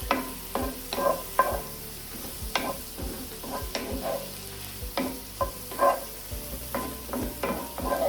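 Mushrooms tossed in butter in a pan give a soft frying sizzle broken by intermittent scrapes and clatters as they are moved around, fairly quiet and close, with no voices.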